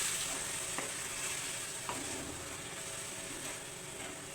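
Mango curry simmers in a pan after second-press coconut milk is poured in, giving a faint, steady sizzle and bubbling with a few soft clicks from stirring.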